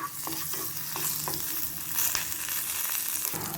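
Spices sizzle and crackle while frying in a hot pan for rasam powder while a utensil stirs and scrapes with repeated knocks, fairly close.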